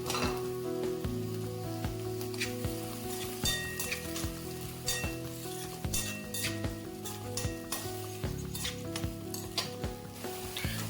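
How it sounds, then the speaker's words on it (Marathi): Mixed pulses roasting in a pan make a dense, steady sizzle with rapid rattling and scraping as they are stirred, and soft tonal music plays underneath. "भाजून झाले की कडधान्य त्यामध्ये घालायचे आणि तेही चांगले भाजून घ्यायचे"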